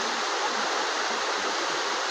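Clear, cold river water flows in a steady, even rush that stays close and fairly loud from start to finish, with no voices.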